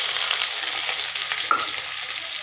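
Garlic, onion and ginger frying in a pan for vegetable porridge, a constant bright sizzle close up with light stirring taps.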